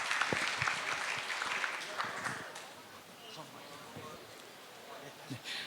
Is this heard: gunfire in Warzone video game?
no